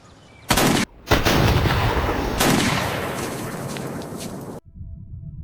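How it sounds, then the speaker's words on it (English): A bazooka blasts in a loud, close burst, followed by a second heavy boom and a long rumbling roar that slowly fades before cutting off abruptly. "Yes, a daggum bazooka."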